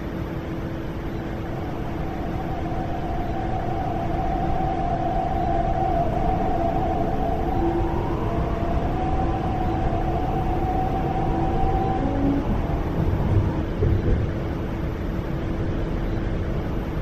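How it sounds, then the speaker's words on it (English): A nine-car MTR East Rail line metro train in the game Hmmsim 2 hums and rumbles steadily on approach, with a long tonal whine rising and shifting in pitch as it pulls in. "A nine-car train to Hong Kong is arriving"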